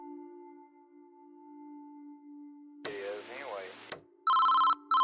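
An old telephone bell rings in the horror video game Nightmare Shift, sounding as two loud trilling bursts at the end after a spoken passage over a quiet ambient hum.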